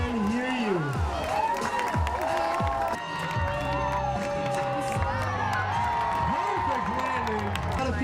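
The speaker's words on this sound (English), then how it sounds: "As long as you guys are cheering loud enough" Crowd cheering and shouting at a Shockwaves show, a continuous roar of many voices with whoops and scattered clapping, loud and close throughout.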